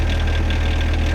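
The Yanmar diesel engine of a mini excavator idles in a steady, close rumble with an even rhythmic pulse.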